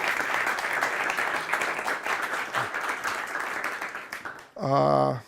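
An audience applauds a volunteer during a magic show, a dense, steady round of clapping lasting several seconds before cutting off abruptly as a voice speaks at the end.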